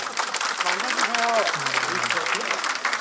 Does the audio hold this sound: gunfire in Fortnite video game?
no